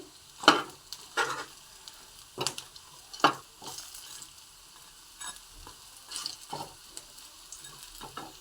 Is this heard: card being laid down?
no